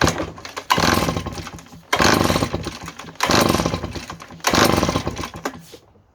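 A Redmax EBZ 7500 backpack blower's small two-stroke engine roars loud and close, revving up in four repeated surges with brief dips between them and no talking over it.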